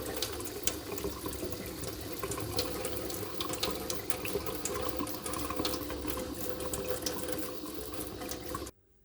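Water from a tap runs steadily into a jar of sprouting seeds being rinsed, a continuous close splashing hiss that stops abruptly at the end.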